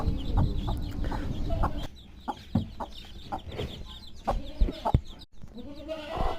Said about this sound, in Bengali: এটি দেশি মুরগির বাচ্চা।